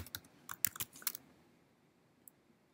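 Quick keystrokes on a computer keyboard while logging into a Cisco Firepower next-generation firewall: a short, quiet burst of clicky taps in the first second, then near silence with one faint tap later.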